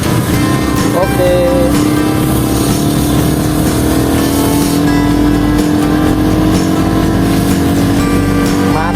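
Dense traffic jam on a main road heard from a motorbike, with a continuous loud roar of engines, revving vehicles and passing cars close by, a constant wash of noise throughout.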